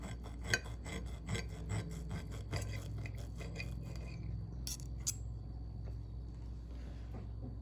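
Knife sawing through a thick sous vide sirloin steak, giving a run of close, raspy cutting strokes that stop partway through, followed by a few faint clicks.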